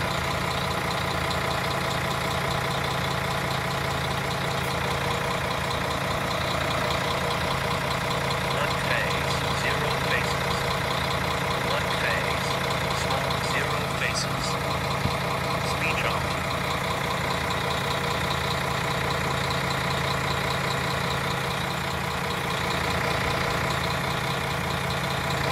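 An OTrain train engine near Greenboro station runs with a continuous, even drone that holds steady for the whole stretch, with faint voices now and then underneath.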